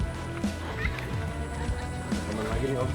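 A horse whinnies at an animal collection, with hoof clip-clops and people talking nearby over a busy outdoor background.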